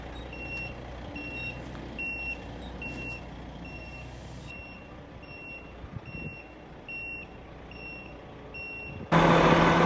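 Truck backing up on a snowy driveway, with a steady series of evenly spaced reversing beeps over a low engine rumble, ending in a sudden loud burst of noise.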